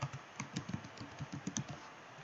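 Typing on a computer keyboard, a quick run of light, close keystrokes in uneven bursts with no talking.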